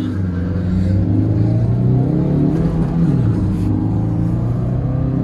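Maruti Swift Dzire 1.2 diesel and Ciaz 1.5 petrol launching side by side in a drag race, engines droning loud and continuous with rising revs, a steady rumbling roar heard from close by.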